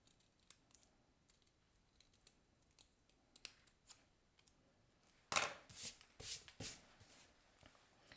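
Scissors snip through paper to cut out a leftover paper flower, a quiet cluster of sharp crisp cuts arriving after a few seconds of faint rustling and handling, with no talking.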